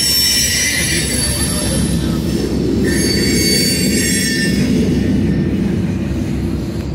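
A Union Pacific train on the Wallace Subdivision rolls past with loud high-pitched wheel squeals over a continuous rumbling of cars on the rails, no talking.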